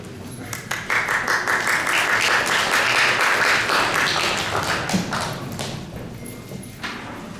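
A dense, sustained round of applause fills a hall at a United Nations Day of Peace event and slowly tapers off toward the end.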